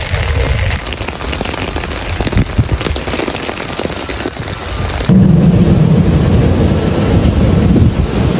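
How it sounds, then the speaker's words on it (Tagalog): Heavy rain pours down by a river in Japan in a dense, continuous roar, loud and close, with wind buffeting the microphone and a low rumble underneath. "Grabe, ang lakas ng ulan guys."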